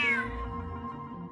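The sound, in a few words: cat meowing in Genshin Impact video game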